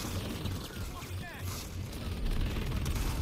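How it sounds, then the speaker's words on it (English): Gunfire from Planetside 2 combat rattles in dense, overlapping bursts under a constant wash of battlefield noise, growing louder and busier toward the end. "These guys are shooting at me like I'm the only enemy out here."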